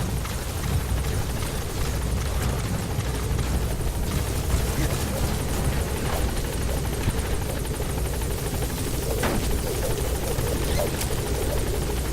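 A support helicopter arriving at a landing zone in Metal Gear Solid V: The Phantom Pain, its rotor thumping steadily and loudly throughout, a constant low drone with faint voices underneath.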